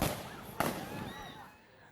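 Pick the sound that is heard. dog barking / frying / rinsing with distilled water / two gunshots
two gunshots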